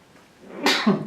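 A single sharp sneeze, close and loud, bursting out after a brief quiet moment.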